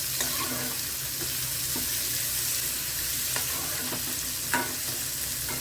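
Food sautés in a hot pan with a constant soft sizzle, broken by repeated scraping strokes of a spatula being stirred through it. No voices are heard.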